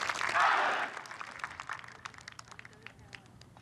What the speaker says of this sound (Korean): 자랑스러운 특전 용사들에게 다시 한번 뜨거운 박수 부탁드립니다